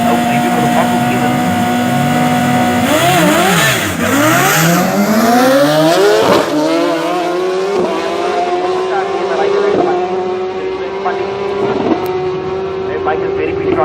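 At a drag race, an S1000 motorcycle roars loudly, its engine rising through rapid gear shifts as it launches down the strip, with a commentator talking over it.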